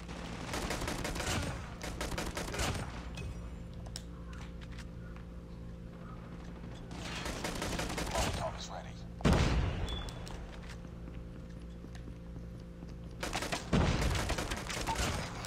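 Gunfire in the mobile shooter game Call of Duty Mobile, several bursts of rapid shots separated by quieter stretches, with sharp louder bangs, under in-game sounds and talk.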